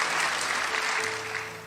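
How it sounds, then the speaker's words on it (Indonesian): Dense applause from a large church congregation during a sermon fills the space, steady and loud, with a faint tone humming beneath it as it slowly tapers. "tepuk tangan buat Tuhan"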